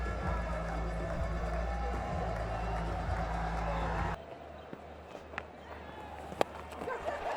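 A big crowd at a Multan one-day international cricket match, Pakistan versus West Indies, roars as a local batsman raises his bat. The cheering is a loud, dense wash for about four seconds, then it cuts off abruptly to a much quieter background.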